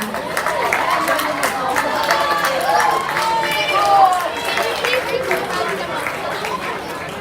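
Applause from a banquet audience at an athletics awards event, steady clapping mixed with crowd chatter and talk, moderately loud and sustained throughout.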